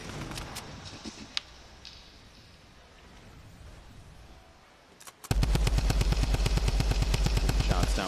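Rapid bursts of gunfire in the Fortnite video game, a dense run of loud repeated shots starting suddenly after a quieter stretch of faint scattered pops, continuing steadily to the end.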